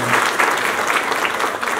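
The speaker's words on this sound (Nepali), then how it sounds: "आफूले आफ्नो लागि एकचोटि जोरदार ताली" Loud, steady applause from an indoor audience at a Nepali public event, a dense clapping wash sustained through the whole moment with no pauses.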